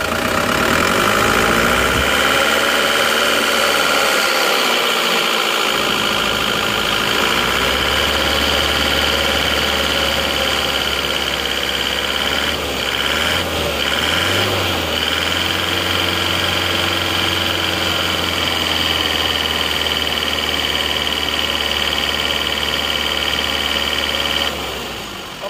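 An Isuzu Panther diesel engine, fitted with new cylinder liners and at 90-degree operating temperature, runs loudly and steadily up close, its pitch rising and falling slightly as it revs, with no talking.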